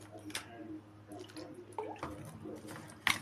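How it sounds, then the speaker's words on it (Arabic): A homemade hair-thickening paste is kneaded by hand with water steeped in garlic, onion, black seed, bay leaves and rosemary, making soft, quiet wet squelches and drips at an uneven pace, with one sharper squish near the end. "هنفضل نعجن ونحط من المية ونعجن بيها"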